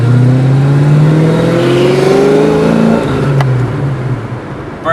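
A 1989 Ford Mustang LX with 4.10 gears does a burnout: a loud, close engine revs and climbs in pitch, holds a strained roar, then eases off near the end.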